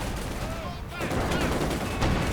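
Company of Heroes 2 battle audio carries dense, continuous gunfire and blasts from a Stuka attack, in a loud wash of crackling shots and rumbling explosions with no pauses.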